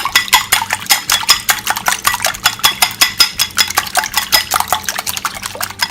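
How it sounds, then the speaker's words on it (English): A whisk beats eggs mixed with about two tablespoons of water in a bowl, producing a fast, steady run of close clinking strokes against the bowl, continuous with no talk. "Add my eggs, and then I start whisking."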